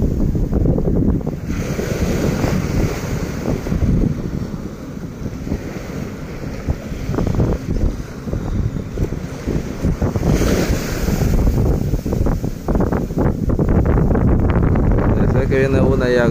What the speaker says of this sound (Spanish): Vamos a ver si captamos bonitas olas, bonito oleaje.